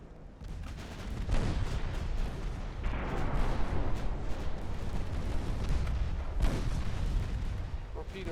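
A naval torpedo detonation in the warship battle game Ultimate Admiral Dreadnoughts: a dense, sustained low rumble of explosive blasts and booming fire, loud and continuous, with sharper bursts standing out near the start and toward the end.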